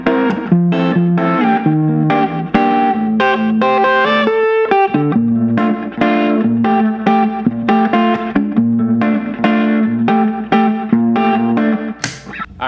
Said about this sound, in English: So the loop is going to sound like this.